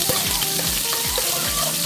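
Garlic frying in a pan sizzles with a loud, dense crackle, broken by a rhythmic series of low thumps from stirring.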